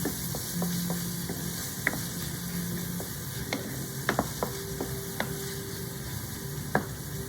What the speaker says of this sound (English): I am cooking some fried rice, and I am using jasmine rice, just jasmine rice.